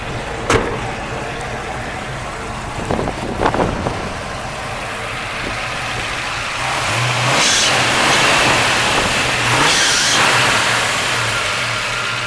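A 1971 Ford Mustang Boss 351 with a Ram Air numbers-matching V8 idles loudly up close, with a few sharp blips early, then a longer rise in revs and a slight belt noise running under the engine.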